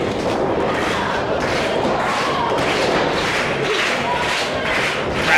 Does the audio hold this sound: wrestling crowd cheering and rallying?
yes